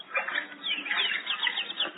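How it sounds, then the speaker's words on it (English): A radio sound effect of birds splashing in a bird bath on a front lawn: light, fluttering bursts of splashing and wing flaps, fairly close and moderately soft, with no talk. "outside on the front lawn, we hear the splashing of birds in the bird bath"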